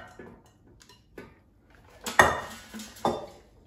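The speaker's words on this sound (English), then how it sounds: "let's take out the air fryer basket and put zucchini chips in the air fryer" Zucchini chips, keto with no breading, drop into an air fryer basket with a few soft knocks, then a couple of louder clattering metallic clinks near the end, close and quiet, with no talking.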